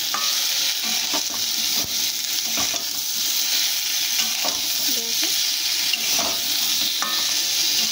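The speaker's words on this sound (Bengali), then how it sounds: "একটু ধনের গুঁড়ো আর একটু জিরের গুঁড়ো দিয়ে আমরা একটু কষিয়ে নেব।" Coriander and cumin powder with curry being sautéed in a pan for a fish dish, a continuous close sizzle with scattered scrapes and taps of a spatula stirring throughout.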